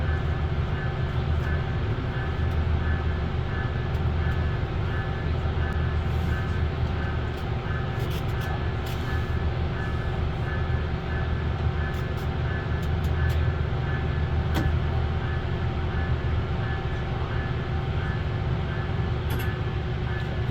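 A VIA Rail train's engine in a train simulator video game drones steadily with a low rumble and faint tonal hum throughout, with occasional light clicks, no voices.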